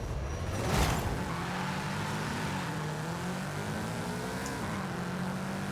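Car engine revving in the racing game Forza Horizon 5, a steady droning engine note with rising and falling harmonic tones as it builds revs, continuous and fairly loud.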